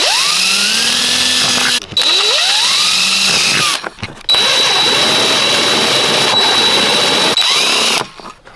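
A power drill bores 4.5mm holes through the cutouts of a weatherproof security light junction box, several close, loud whining bursts that rise in pitch as the bit spins up, separated by brief pauses.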